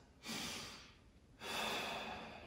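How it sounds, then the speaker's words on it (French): Two long, steady breaths, a slow exhale then another, sound close and soft during a core-strengthening plank workout, with no talking over them. "Et je respire."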